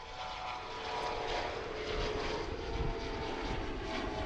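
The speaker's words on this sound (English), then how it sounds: "This is our first takeoff on 36 right, and there's another one behind that one." A cargo aircraft takes off from runway 36 right at a busy cargo airport, its engines giving a steady, loud, broadband roar that swells slightly as it climbs away, with no talk over it.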